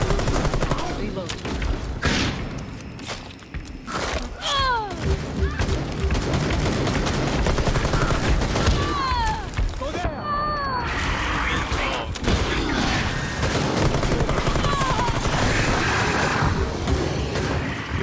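Gunfire from the video game Rainbow Six Extraction: dense, loud shooting bursts that run continuously through a busy combat mix, with short squealing and chirping effects layered over the shots.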